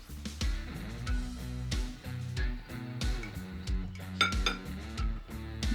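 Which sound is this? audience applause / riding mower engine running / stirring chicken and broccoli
stirring chicken and broccoli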